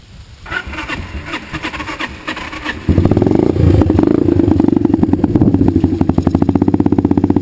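A small dirt bike engine cranks over several times with rhythmic chugging, then catches and runs at a loud, steady, close-up idle with a rapid putter for the rest of the clip.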